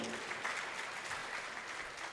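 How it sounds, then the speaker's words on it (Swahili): Steady applause from an audience at a young engineers' forum in Tanzania, a dense wash of clapping that holds evenly for a couple of seconds with no voices on top. "Makofi tena mengi jamani."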